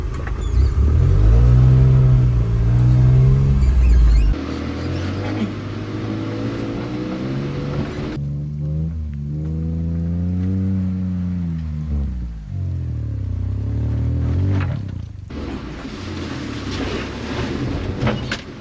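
A JDM kei mini truck carrying a custom camper drives through low tree branches on a winter trip, with steady loud engine and road rumble, a rushing scraping wash of branches over the camper and awning, and rhythmic wiper sweeps.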